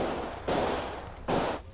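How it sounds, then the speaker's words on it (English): Two sharp gunshots crack out in quick succession in a radio drama, each a loud broadband burst with a short decaying tail, separated by under a second of low hiss. "Suddenly, 3 shots ring out"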